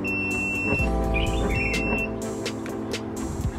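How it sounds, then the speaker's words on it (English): A multimeter beeps during a continuity check on a switch in Tacoma 5-speed swap wiring, giving short high-pitched tones amid low background hum in a garage. "So whenever you hear the beep, it pretty much means that there's continuity"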